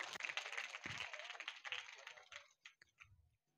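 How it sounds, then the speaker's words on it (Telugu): Clapping from a congregation at a church Mass attendance gathering, a steady, fairly faint patter for about two and a half seconds before thinning into a few scattered claps. "గట్టిగా చప్పట్లు కొట్టండి"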